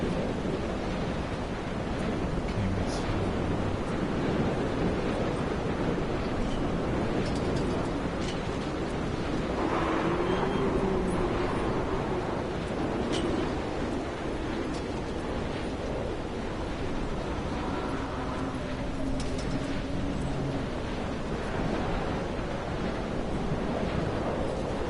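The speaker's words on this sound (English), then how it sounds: "Very windy in my ears, in my" Continuous wind and crashing ocean surf on a coastline in the video game Dear Esther, a dense steady roar with gusting noise filling the whole stretch, no voices.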